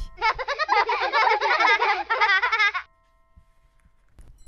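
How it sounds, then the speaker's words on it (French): A dense chorus of goats bleating at once, loud and overlapping for nearly three seconds, then near silence with a faint knock at the end. "Et là, c'était un concert de bêlements"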